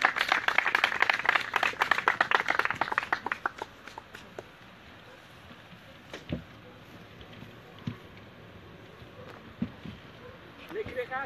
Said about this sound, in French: on peut applaudir les crapaudes